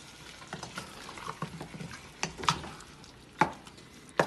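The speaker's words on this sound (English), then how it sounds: "now I'm going to add my chicken to this and just whisk it around until it's evenly" Chicken pieces being whisked into a Guyanese-style curry mixture in a pot, giving soft, uneven stirring and scraping with a few sharper knocks of the utensil against the pot, close by and fairly quiet, with no talking.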